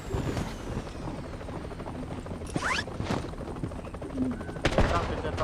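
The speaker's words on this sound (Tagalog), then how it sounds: "May naka-helicopter pa." Video game helicopter whirring as a steady low drone under bursts of gunfire and sharp game effects, with a player talking over it.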